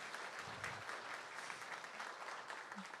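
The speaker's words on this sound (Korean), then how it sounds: "박수 한번 보내주실까요?" Applause from the audience at a university honorary doctorate ceremony in Korea: steady, dense clapping that fills the whole stretch evenly, with no pauses or voices.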